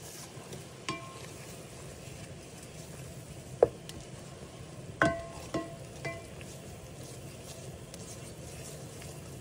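Flour stirred into melted butter in a pan for a katsu curry sauce gives a low, steady sizzle with faint scraping, punctuated by a few sharp utensil clinks near the middle.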